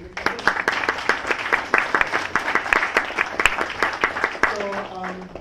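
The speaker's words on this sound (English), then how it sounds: "let's have one more round of applause for all of you" Audience applause after talks at a statistical programming meetup, with several sharp, distinct claps standing out over a thinner, uneven patter from a small crowd, and a voice briefly audible near the end.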